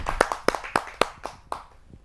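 A handful of sharp, separate hand claps ring out at a Hindi kavi sammelan, greeting poet Rajendra Arya from Mahendragarh, Haryana. The claps come in an uneven rhythm, close and distinct, and thin out toward the end.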